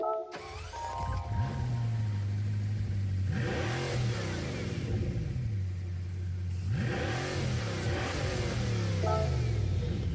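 A 2013 Bugatti Veyron 16.4 engine in Gran Turismo 7 cranks and fires up, then revs repeatedly in strong rising bursts before settling into a throaty idle, close and loud.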